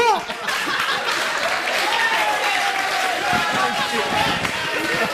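A studio audience claps together at a French comedy variety show, steady dense applause sustained throughout with some cheering and laughter mixed in.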